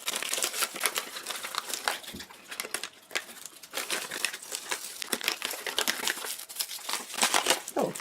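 Crinkling plastic wrapped tightly around air-drying clay, close and busy with dense rustles and crackles coming in irregular bursts, no voices.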